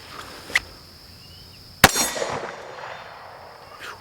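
A Canik TTI Combat pistol fires at a shooting range. One loud, sharp report rings out with a metallic ring and a decaying tail, preceded by a fainter distant pop, and there is no talking.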